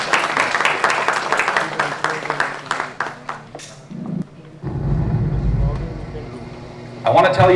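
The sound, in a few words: audience applause for panel guest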